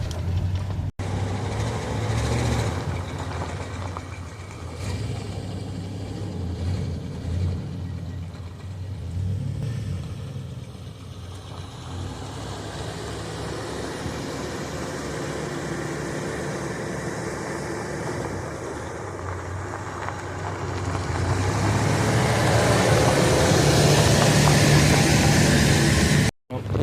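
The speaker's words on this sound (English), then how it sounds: "We're officially driving the Suburban at long last." A 1985 Chevrolet Suburban on the move, its brakes not yet hooked up and a car trailer attached, heard from inside as a steady engine and road rumble that swells louder near the end, with no talk.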